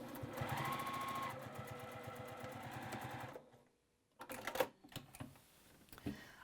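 A sewing machine runs steadily for about three seconds while back stitching the binding on a quilt, then stops, followed by a few close handling clicks and taps.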